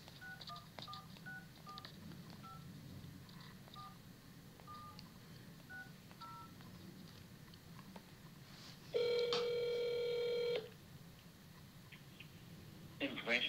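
Telephone keypad dialing a police information desk: a series of short, evenly spaced DTMF beeps, then a long steady ringback-style tone, with quiet room noise underneath and a brief burst at the end.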